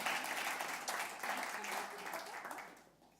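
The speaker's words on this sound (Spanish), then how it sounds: "Dale un aplauso al Señor por la vida de Débora y bendice al Señor con tus palmas." Church congregation clapping for a young speaker at a youth service, a soft, steady wash of applause with a voice faintly audible beneath it, tapering off at the end.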